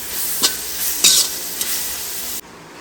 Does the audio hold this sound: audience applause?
no